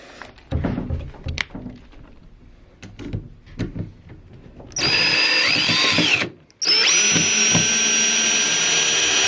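Power drill backing a screw out of an IKEA PAX wardrobe, with scattered knocks and handling thuds first, then two long, loud, steady whirring runs split by a brief pause.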